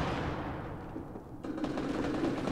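Suppressed machine gun fire in the Fortnite closed beta, a dense rapid rattle of muffled shots running continuously and fairly loud, with the burst getting harsher in its second half and no talk over it.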